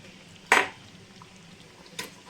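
A spoon clanks twice against a pot while stirring khichdi with ginger and green chilli paste: one sharp metallic scrape, then a softer knock about 1.5 seconds later, in an otherwise quiet kitchen.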